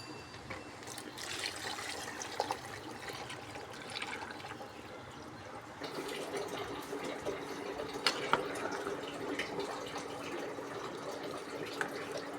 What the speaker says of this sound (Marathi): आपण याच्यात आता गरम पाणी टाकतोय